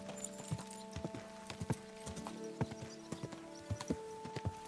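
A horse's hooves clip-clop in Kingdom Come: Deliverance II, with a quick irregular run of hoof strikes close by over a faint steady background hum.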